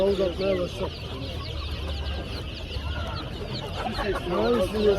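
Ataks chickens about three and a half months old cluck in bursts at a poultry and chick market, close and repeated over a busy background where people talk.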